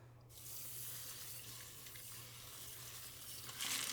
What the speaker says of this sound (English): So we are just going to rinse everything off.